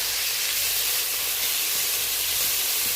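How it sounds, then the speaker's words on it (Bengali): Grated onion and half-slit green chillies frying in hot oil with black cumin seeds, a steady close sizzle and hiss running unbroken throughout with no talk. "পেঁয়াজ, কাঁচা লঙ্কা ফোড়নের থেকে বেশ ভালো করে কষিয়ে নেব"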